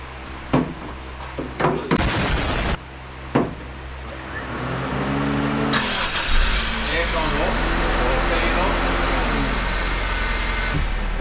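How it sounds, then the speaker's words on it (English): A car engine runs steadily at idle after an oil flush, a low continuous hum following a couple of sharp clunks and a brief burst of noise, with a voice speaking over it early on. "And now we need to let the car run for 10 minutes to clean everything out."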